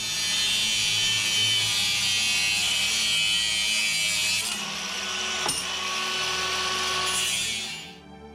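An angle grinder cuts through metal pieces for a fire extinguisher bracket with a loud, continuous high whine close by, and the pitch shifts midway before the sound winds down at the end.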